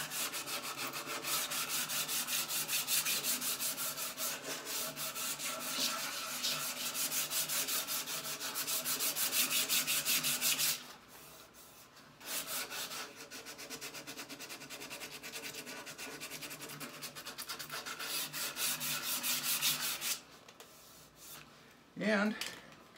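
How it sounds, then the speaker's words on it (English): Hand sanding a wooden Harmony Monterey archtop guitar neck, with steady rhythmic back-and-forth rubbing strokes up close, pausing briefly near the middle and again near the end. "I'm going to go ahead and just finish sanding this"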